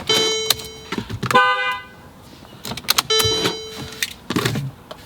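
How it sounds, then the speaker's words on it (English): Horn on a Mercedes-Benz car honking in short bursts, a pair of close, loud toots separated by a pause, with clicks and small mechanical sounds in between. "Does the horn work?"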